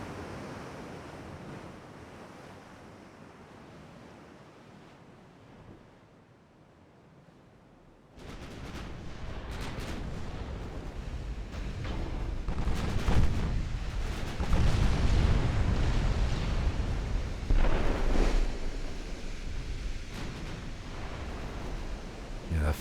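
Enemy naval gunfire in the warship game Ultimate Admiral: Dreadnoughts, heavy rumbling booms and blasts building over a constant roar of sea and wind, growing louder and denser partway through.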